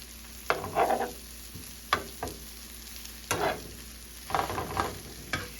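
Flattened cabbage sandwich patties sizzle steadily in a pan while a utensil scrapes and taps against it several times, close up and quiet.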